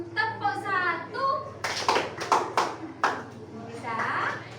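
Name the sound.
class clapping hands in a clapping game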